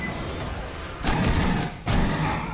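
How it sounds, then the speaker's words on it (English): Gunfire in Aliens: Colonial Marines, a dense continuous barrage in two loud sustained bursts over constant noisy background, with no clear gaps between shots. "Why are we firing out of the window into space?"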